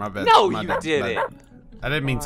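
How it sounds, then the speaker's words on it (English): A dog in the Roblox video game yelps and whimpers after being struck with a sledgehammer, with short repeated yips mixed in among several people talking over it. "Look, I hit the dog with the sledgehammer."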